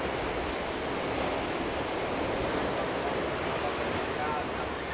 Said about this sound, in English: And just the churn of the sea coming off those twin hulls.